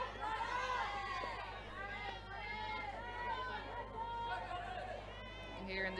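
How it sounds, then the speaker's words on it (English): Crowd at a girls' under-17 national softball championship game, a steady wash of chatter and cheering voices from spectators, moderately loud and continuous throughout with no clear peaks. "Hearing the cheers from the crowd here."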